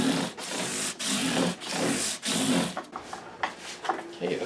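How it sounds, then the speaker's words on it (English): Abrasive paper at 320 grit rubbing back and forth across the frets of an Epiphone Masterbilt guitar, a steady rhythmic scratching in regular strokes about every half second, close up, then lighter scattered scrapes toward the end. "we'll step up to successively finer grits right up to 1200 and bring these frets to a mirror shine"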